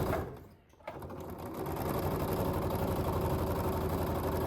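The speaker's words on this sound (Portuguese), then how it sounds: "eu vou levar pra máquina e passar uma costura" A domestic sewing machine runs a seam on fabric for an overlay blouse: a brief start, a short pause, then a steady, even mechanical whir that holds up close until the end.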